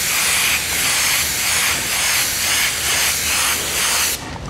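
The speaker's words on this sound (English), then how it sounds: "it's helpful to actually hold your airbrush at an angle so you can control that overspray" Airbrush spraying blue paint onto a shirt, a close continuous airy hiss that swells and eases in gentle pulses as the brush sweeps, cutting off just before the end.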